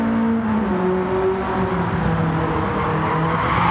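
BMW M3 engine in the Gran Turismo 7 racing game, a steady loud droning rev with sustained tonal harmonics shifting slightly in pitch, continuous throughout with no talk.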